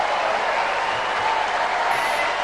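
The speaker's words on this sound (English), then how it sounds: "And listen to this crowd." A tennis crowd at the 2003 Los Angeles final roars and applauds after a point, dense sustained clapping and cheering, loud and continuous throughout.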